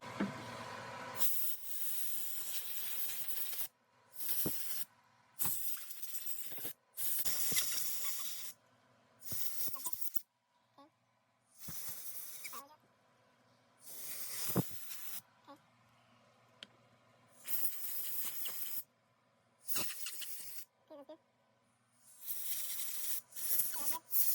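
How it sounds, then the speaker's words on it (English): Carburetor cleaner sprayed on an ATV carburetor, close by in repeated loud hissing bursts of one to two seconds with short pauses, some faint handling sounds between them. "I need to use the carb cleaner"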